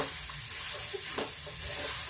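Mixed vegetables with cashews, dried dates and almonds stir-fried in a pan for a healthy Ferozpuri mix chaat: a steady close sizzle with soft scraping stirs, and no voices.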